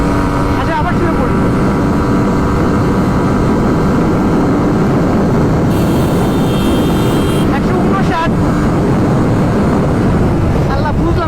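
A Suzuki GSX-R motorcycle rides at high speed, a loud, constant rush of wind and engine roar filling the whole stretch.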